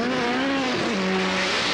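A rallycross car at Lydden Hill in a 1985 European Rallycross race accelerates hard, its engine note rising loud and close, dropping briefly as it shifts, then pulling again with a steady roar.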